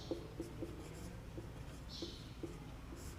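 A pen writes out a maths solution by hand with short, quiet scratching strokes in an irregular rhythm against a low steady background hum.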